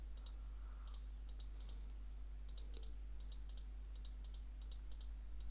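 Rapid mouse clicks while crafting items in Path of Exile, short bursts of two to four sharp clicks repeating steadily across the clip, close but quiet over a low steady hum, no talking.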